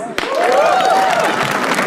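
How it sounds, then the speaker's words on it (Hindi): Crowd at a comedy roast breaks into loud, dense clapping and cheering with a rising whoop, sustained for about two seconds. "तालियां प्लीज"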